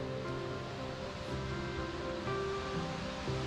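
Queen Mary Falls, a 40-metre waterfall plunging into a valley in Queensland's Scenic Rim after rainfall, gives a steady broadband rush of falling water, constant and fairly close, with no voices.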